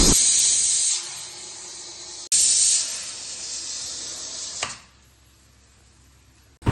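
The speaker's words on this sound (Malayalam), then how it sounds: "കുക്കർ അടുപ്പത്ത് വെച്ച് കഴിഞ്ഞാൽ ഒരു രണ്ട് വിസിൽ കേൾക്കുന്നവരെ നമ്മൾ വെയിറ്റ് ചെയ്യണം" A pressure cooker cooking beef for beef perattu vents steam in two long, loud hissing bursts, each cutting off sharply before a quieter pause.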